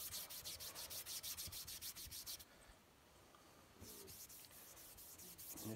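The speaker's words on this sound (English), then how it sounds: "just a steel wool." Rhythmic back-and-forth scrubbing with steel wool on a Lyman Great Plains rifle during its build, a quick run of harsh rasping strokes, a short pause, then more rubbing, close up.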